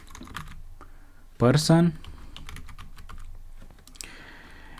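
Light clicking keystrokes on a computer keyboard while Python code is typed, soft and near, briefly interrupted by a short spoken word in the middle.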